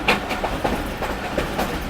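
Awam Express passenger train running on rails out of Rawalpindi, a steady rumbling clatter with repeated wheel clicks at regular intervals, close and continuous.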